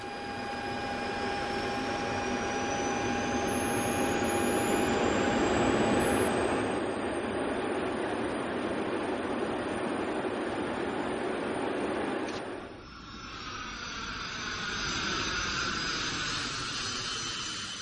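A LOT passenger jet airliner on flight 5055 takes off, its engines holding a loud, steady roar with a high whine that rises and then shifts, heard continuously from inside the aircraft.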